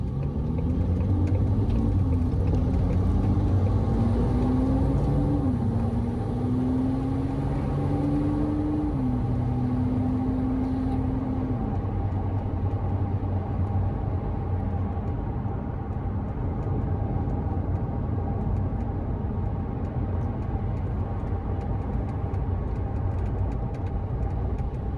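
A 2019 Ford GT Heritage Edition Gulf accelerating hard, its engine note climbing through rising gear steps for about twelve seconds before settling into a steady, rough, loud rumble that continues alone to the end.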